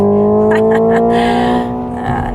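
Hyundai IONIQ 5 N electric car accelerating hard under launch control, with a loud steady synthetic drive tone and tire noise that ease slightly toward the end.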